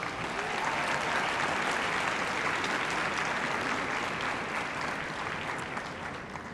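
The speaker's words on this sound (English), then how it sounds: "Let's give a huge round of applause to our sponsor of tonight's recognition ceremony, Colorado College." A large audience at a national speech and debate awards assembly gives sustained, loud applause for the evening's sponsor, dense clapping holding steady before easing slightly at the end.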